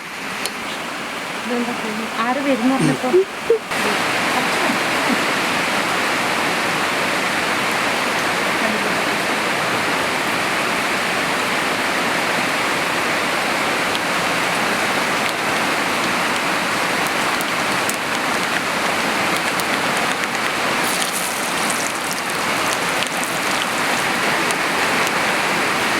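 Steady rain pours down in a village setting, a dense, even hiss of drops on surfaces lasting throughout, loud and close, with a brief clatter of handling sounds near the start.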